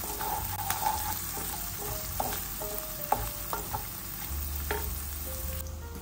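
Vegetables for a beetroot soup sauté in a pan with a pinch of salt, giving a steady low sizzle with intermittent clinks and scrapes from stirring, close and without speech.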